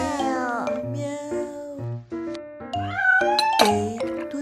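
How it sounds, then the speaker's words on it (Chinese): A kitten meows repeatedly in short, close, loud calls, some drawn out and rising, with a brief soft tone or chime near the end. "小猫好可爱哦"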